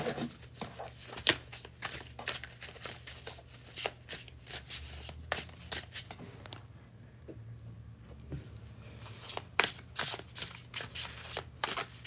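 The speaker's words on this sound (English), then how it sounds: "That shuffles nicely." A new Sphere of Heaven tarot deck is shuffled by hand in close, crisp bursts of riffling card edges, with a short lull midway before the quick shuffling resumes.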